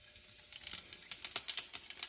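Cumin seeds dropped into hot oil for a tadka, crackling with a fine high-pitched sizzle and scattered quick pops that pick up after the first half-second, close and fairly quiet, with no talking.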